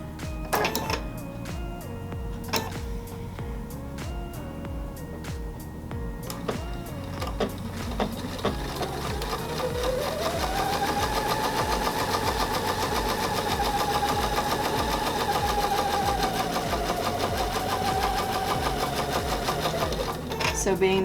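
Sewing machine stitching a seam through two layers of quilt fabric, a fast, steady mechanical whirring and rapid needle clatter that speeds up and holds for several seconds, close, with a person talking over it.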